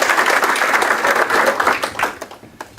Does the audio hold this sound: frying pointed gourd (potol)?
no